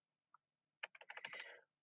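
Fingers tap a computer keyboard: one isolated click, then a quick burst of about a dozen close, crisp keystrokes, quiet and without speech.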